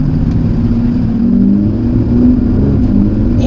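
Aston Martin DB11 engine in Sport Plus mode, a steady low rumble heard from inside the cabin that swells slightly during a downshift, loud and continuous with no talking.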